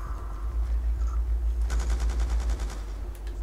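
Light machine gun firing in a video game, a rapid sustained burst of loud automatic shots over a pulsing low rumble, starting after a quieter opening and running for well over a second.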